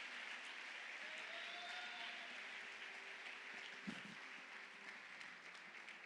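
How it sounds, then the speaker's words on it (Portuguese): Congregation applauding during a church sermon on the Book of Esther, a steady wash of clapping that holds for the whole stretch at moderate level, with a brief thump near the end. "Pode aplaudir ao Senhor"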